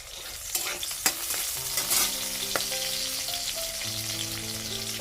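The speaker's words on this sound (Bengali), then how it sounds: "এটাতেই করলাটা ভাজা করলাম তো লঙ্কা দিব এখন" Bitter gourd and chilli fry in a wok with a close, crackling sizzle, and a spatula stirs and scrapes now and then. No one speaks over the frying.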